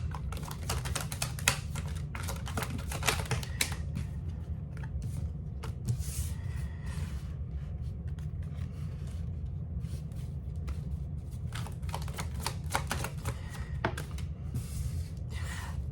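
Tarot cards are shuffled and flipped in quiet, irregular bursts of soft slapping and riffling clicks, some sharp and close, spread across the stretch with short pauses and no talking.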